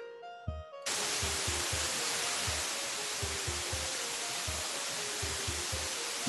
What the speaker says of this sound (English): So let's bring the white noise into my mixer.